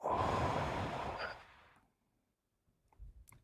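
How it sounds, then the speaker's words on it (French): A person draws one long, deep breath through the mouth that fades out after about a second and a half, followed by near silence and a few faint soft sounds. "on va faire une respiration"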